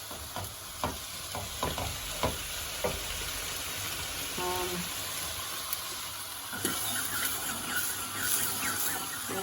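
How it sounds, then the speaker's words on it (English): A creamy pasta sauce is stirred in a pan while butter melts, giving a steady soft sizzle and frying hiss. Intermittent scraping and clinking strokes sit over it, with faint kitchen noise. "And while your butter is melting, keep on stirring your"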